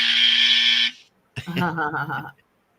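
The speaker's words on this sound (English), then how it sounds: "the cool thing is Jen's buzzer is Melanie's" A loud, steady electronic game-show buzzer drones for about a second, then cuts off; after a brief pause a voice speaks close by.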